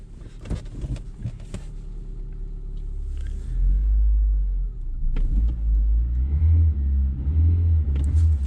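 A Renault Clio engine rumbles and revs as the car pulls forward, low and steady close by, with a few clunks early on and the engine note swelling and pulsing from the middle onward; no one speaks.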